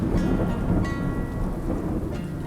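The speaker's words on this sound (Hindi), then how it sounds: "पता है कितनी जोर से बारिश हो रही है" Heavy monsoon rain pouring down in a dense, loud wash, with a deep rumble of thunder rolling underneath throughout.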